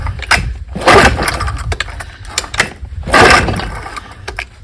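A 1968 Evinrude 9.5 outboard motor is pulled over by its starter cord in three or four quick, rasping pulls, each a short burst of mechanical whir, loud and close with no voices.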